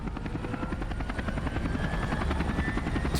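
A helicopter in the BONELAB video game whirs with a steady, dense rotor chop and engine drone, loud and close, holding constant throughout.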